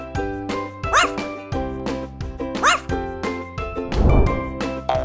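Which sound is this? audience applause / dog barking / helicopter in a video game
dog barking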